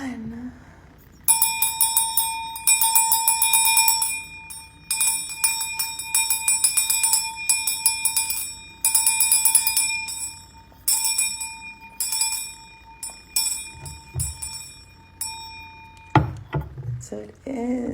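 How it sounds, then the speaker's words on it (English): A series of bright bell strikes ringing out with long sustained tones, struck repeatedly in clusters, fairly close, before fading near the end. "start with the sound of clearing with my mother Ocean's bell"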